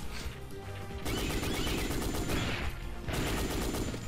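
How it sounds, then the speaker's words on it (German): Automatic weapon fire in the video game Dino Crisis 2, a dense rapid burst running steadily through most of the moment with a brief gap, loud and close with no talking. "So eine geile, geile Ballerwaffe"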